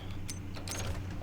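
A winch mechanism runs with a steady mechanical whir and faint grinding creaks, close and continuous for the whole moment, with no voices.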